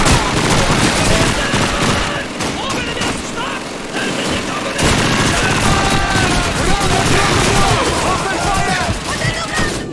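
Dense, continuous gunfire and explosions from a World War II battle in the video game Call of Duty 2, with bursts and booms layered over one another, loud and near throughout, and voices shouting in the background.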